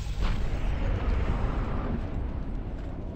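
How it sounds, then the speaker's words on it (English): An explosion in the video game Borderlands rumbles as a sustained low boom that fades slowly. It is loud and heard on its own, without speech. "Every time you fucking do that, you hear the explosion."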